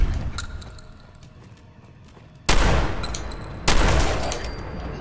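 Two loud, sharp shotgun blasts from Fallout 4 ring out about a second apart after a stretch of quieter clicks and ambience, each followed by a trailing decay.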